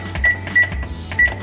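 An oven's control panel beeping as it is set to bake, three short electronic beeps pressed one after another, close and clear.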